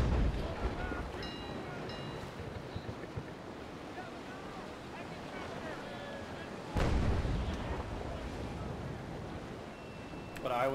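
Cannon fire in a naval battle video game with sailing ships, a low rumbling ocean and wind bed with a heavy booming broadside blast partway through and a few scattered shots.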